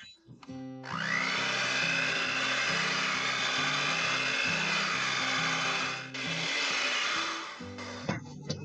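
An electric mixer kneads tamale dough with broth, running in a steady loud whir for several seconds with a brief dip partway through, then stopping near the end.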